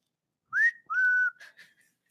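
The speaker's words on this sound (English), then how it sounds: "You want to whistle?" A person whistles a short tune of a few rising and steady notes, close and clear, with no talking.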